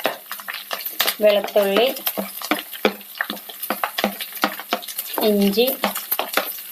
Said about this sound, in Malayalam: ചെറുതീയിൽ വെച്ച് ഇതെല്ലാം ഒന്ന് വഴറ്റിയെടുക്കാം